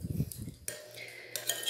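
Cutlery clinks and scrapes against a dish while canned sardine filling is broken into smaller pieces, a few quick close taps and then a short metallic ring.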